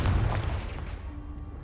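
A Confringo blasting spell exploding in Hogwarts Legacy, one deep booming blast at the start that rolls off into a fading rumble, heard alone without talk.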